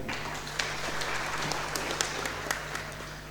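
An audience at an international university symposium applauds a speaker being introduced: a continuous blur of clapping, moderately loud and steady, with a few sharper claps standing out and a low hum underneath.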